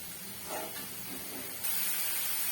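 Masala roasting in a pan for a chawli and moong vegetable dish, a continuous close hiss and sizzle that swells louder partway through.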